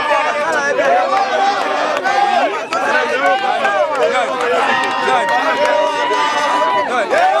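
A large, dense crowd of admirers presses around the mayor, a loud continuous babble of many overlapping voices and chatter, close and unbroken throughout.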